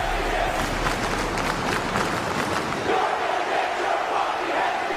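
A dense wrestling crowd roars and cheers continuously at a live event, loud and sustained throughout with shouting voices blended into the din.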